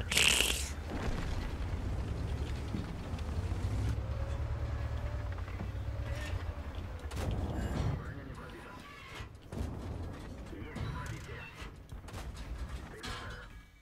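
Booming tank cannon shots from World of Tanks, with a KV-1SA auto-loader in play: a loud blast at the start and further heavy reports scattered through steady engine rumble, with a voice talking over much of it.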